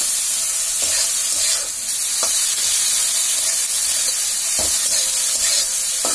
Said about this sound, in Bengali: এবার গ্রেট করা আমি পেঁয়াজ আদা রসুনটা দিয়ে দেবো